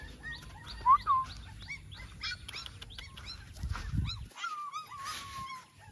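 A puppy whimpers and yelps in short, high whines, with birds chirping faintly in the background.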